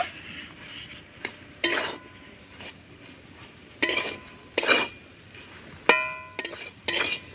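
Curry-leaf filling for a snack is stirred in a pan, with bursts of scraping and metal clinks from the spoon against the pan over a faint sizzle, spaced irregularly and heard up close.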